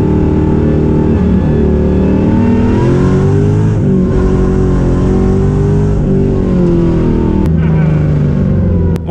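An LS-swapped Mazda Miata driven hard through an abandoned neighborhood, its V8 roaring loud and close as it revs up, shifts and pulls again in sustained bursts.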